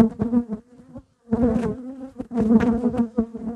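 A dense, steady hum of honeybees swarming around an opened hive whose colony was left queenless, close and loud, with no talking.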